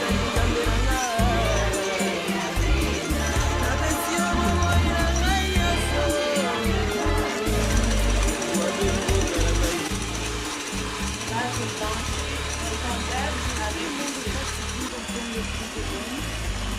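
An electric mixer whirs continuously while whisking sponge cake batter, a steady mechanical buzz with rhythmic clicking and rattling from the beaters against the bowl, close and loud throughout.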